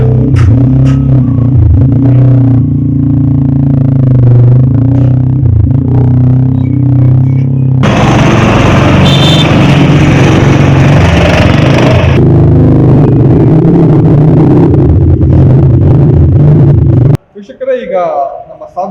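A handmade wooden bike from Gowribidanur, Karnataka, rumbles loud and close with a steady low engine drone through a ride, rising into a rougher, noisier stretch midway before abruptly cutting off near the end.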